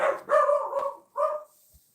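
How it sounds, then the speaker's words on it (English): A small, short-legged dog barks indoors at a front window, giving about three sharp yips in quick succession, close and fairly loud, with a brief pause before the last one and no talking. "He's barking out the front window."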